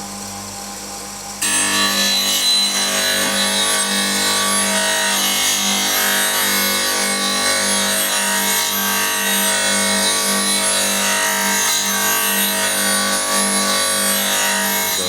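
A woodturning scraper smooths spinning wood on a lathe, giving a loud, continuous scraping rasp over the steady hum of the lathe motor, with no talk.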